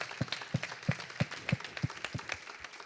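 A crowd claps in applause, with sharp, fairly regular claps about every half second standing out over a thinner wash of scattered clapping.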